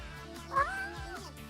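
A cartoon cat in the Avatar World mobile game gives a single short, soft meow with a rising and falling pitch over a faint background.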